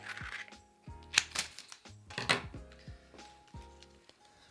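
Someone cuts into a small plastic bottle while fixing a broken headlight, giving a series of quiet crisp snips and crackles with irregular gaps between them, close and alone.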